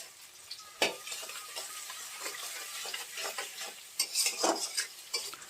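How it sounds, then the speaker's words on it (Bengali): Chopped tomato and onion with a little salt frying in oil, stirred with a few distinct scraping clinks of a utensil against the pan over a light sizzle, with no speech. "আবারও একটু সুন্দরভাবে নেড়ে দেব।"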